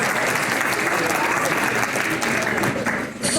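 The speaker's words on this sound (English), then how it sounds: "Please, another round of applause for that beautiful," A crowd gives sustained, loud applause after a live performance, a dense and continuous patter of many hands that barely fades before the end.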